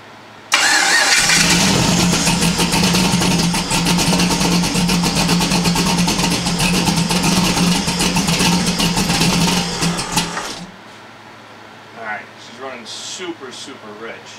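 An LS V8 in a Foxbody Mustang, running on E85, cranks and fires, then runs loud and steady for about ten seconds before shutting off, after which a person speaks.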